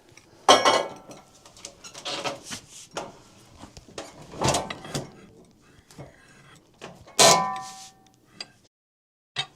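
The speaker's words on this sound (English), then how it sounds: "Now you'll hear this clamp fall." A metal clamp falls on a Wood-Mizer LT15 sawmill while quarter-sawing a large red oak log: several sharp metallic clanks and rattles ring out, loud and close, with quieter scraping and shuffling between the hits.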